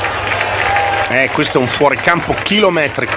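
Crowd applause and cheering in a baseball stadium after a long home run, a steady broadband bed of clapping and noise under an excited commentator's voice that carries over it throughout.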